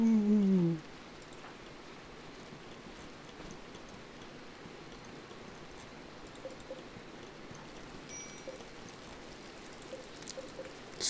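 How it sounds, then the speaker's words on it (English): Steady foggy rain falls as a soft, even hiss that runs on throughout, with a few faint patters near the end and a brief louder sound at the very start. "Foggy rain."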